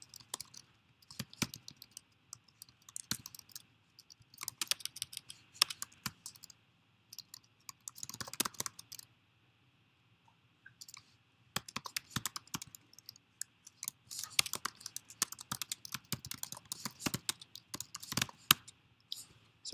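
Someone types code on a computer keyboard, with soft clusters of key clicks coming in irregular bursts separated by short pauses and one longer gap, close and quiet with no speech.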